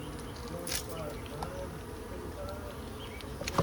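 Honey bees drone around an open hive with brood combs in a low, constant buzz, faint and steady, with occasional nearby fly-bys and a few soft bumps.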